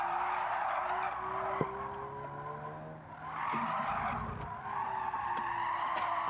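A car in a racing video game skids with prolonged tire squeal over an electric motor's rising whine, loud and continuous for about six seconds with a brief dip midway.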